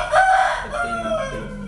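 A rooster crows once, close and loud. The call is a single drawn-out crow that fills the short moment.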